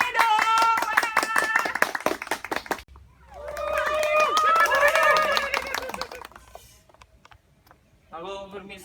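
An audience claps for a contestant at a comedy contest, bursts of quick hand claps mixed with loud voices talking and laughing over them.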